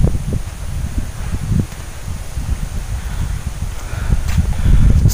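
Strong wind sweeps across a mountainside at Gunung Lingga, a steady rushing roar with low buffeting gusts against the microphone and faint rustling throughout, growing heavier near the end.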